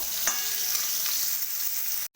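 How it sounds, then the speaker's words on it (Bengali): Potatoes fry with okra in a pan, a continuous bright sizzle with a few soft stirring scrapes, close and steady, cutting off abruptly at the end. "এবার আমি আলুগুলো দিয়ে দিলাম এগুলো খুব ভালো করে ভেজে নেবো"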